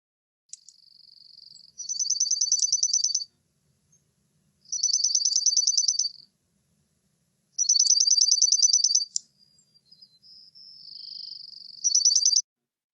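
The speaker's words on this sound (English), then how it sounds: "the dark-eyed junco also can be pretty much on the same pitch, but it's much more musical or tinkling" Dark-eyed junco singing its even, musical trill in three bursts of about a second and a half each, loud and close, separated by pauses, with fainter thin high notes between them.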